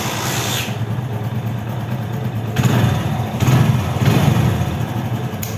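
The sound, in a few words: motorcycle engine starting and idling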